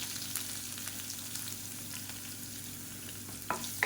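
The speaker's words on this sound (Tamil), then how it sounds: "அடுப்பு நல்லா மீடியத்தில் வச்சுக்கிட்டு பூண்டு நல்லா பொன்னிறமாக வதக்கிக்கலாம்." Garlic fries in oil with mustard seeds and urad dal, a faint, continuous sizzle and crackle broken by a few small stirring clinks near the end. No one speaks.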